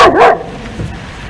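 A dog gives a single loud, close bark in a Pakistani family TV drama scene, followed by quiet.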